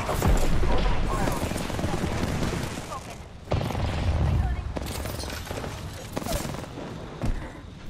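Gunfire in the video game Apex Legends, dense bursts of automatic fire and sharp shots crowding close together, with heavier booms mixed in and brief lulls between volleys.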